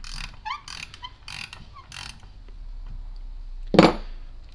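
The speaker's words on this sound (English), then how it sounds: "Now with the hex nut in place, we can get a proper wrench on them and turn them out." Wrench ratcheting as it turns out bolts fitted with welded hex nuts in wood: a few faint clicks early on, then one loud, short ratcheting burst near the end, alone without talk.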